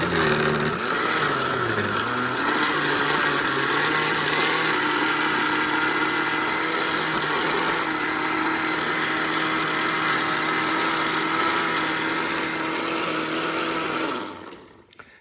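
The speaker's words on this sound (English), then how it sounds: "you just want to put your blender on mix" A kitchen blender runs on its mix setting, chopping salsa to a chunky texture, a loud steady whirring drone that holds for about fourteen seconds before winding down abruptly at the end.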